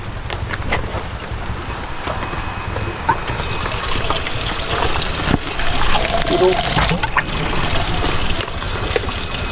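A homemade high-pressure water pump running: a continuous rushing, gushing hiss of water with rumbling noise, fairly loud and steady, with faint background voices.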